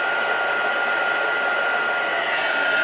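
A heat tool blows steadily over embossing powder melting on cardstock, a continuous loud whooshing hum with no breaks, close up and alone.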